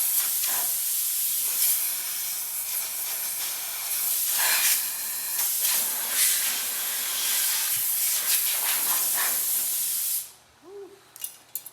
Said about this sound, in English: I'm gonna hit it with the air hose.